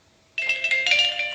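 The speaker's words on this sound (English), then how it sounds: "It's ringing." A phone starts ringing abruptly and keeps up a steady, loud electronic trill with bright pulsing tones, close by, with no one talking over it.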